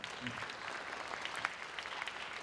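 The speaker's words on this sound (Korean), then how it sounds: "다시 한번 큰 박수 부탁드립니다" Steady applause from a crowd at a student orchestra concert, many hands clapping continuously at moderate volume for a few seconds.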